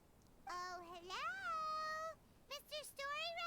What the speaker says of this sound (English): I heard a meow, that's a cat.